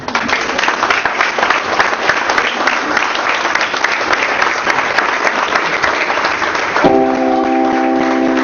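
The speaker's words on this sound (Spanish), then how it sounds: "Y quiero que reciba con un fuerte aplauso al hombre del Señor." Loud, dense applause from a church congress congregation welcoming a preacher, steady and sustained, with music tones entering near the end.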